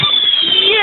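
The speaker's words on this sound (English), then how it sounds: "Oh, fireworks!" A bonfire night firework rocket whistles as it climbs, a sustained rising shriek close and loud, with people talking nearby.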